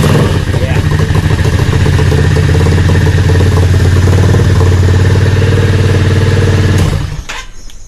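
A Yamaha XVS650 motorcycle fitted with a Dynatek performance ignition fires up and runs loud and close, its steady rumbling idle holding for about seven seconds before it is switched off and falls quiet.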